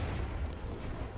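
Heavy cannon fire from a ship battle in the pirate game Blazing Sails, a dense, loud low rumble of booming shots rolling continuously through a short burst.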